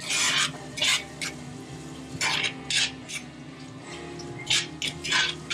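A spoon scrapes and swishes through a reducing sauce in a pan in short, repeated bursts, with a soft sizzle continuing between strokes.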